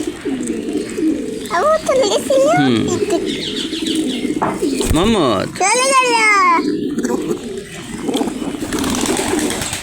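Pigeons coo close by in a loft, with rising and falling throaty calls over a busy background, while people talk throughout.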